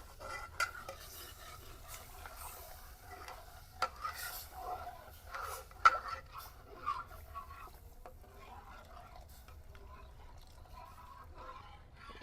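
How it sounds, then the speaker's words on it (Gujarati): A spoon stirs Sindhi kadhi in a pot after water has been added. Quiet scraping and occasional soft clinks against the metal sound over a faint low background. "નાખીને હલાવવાનું એક લીટર પાણી નાખી દેવાનું છે"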